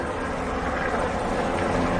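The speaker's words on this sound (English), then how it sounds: "I can hear the drone overhead." A drone flying overhead during a police response near apartments in Sacramento, heard as a steady, broadband whirring drone that stays constant and fairly loud throughout, with no talk.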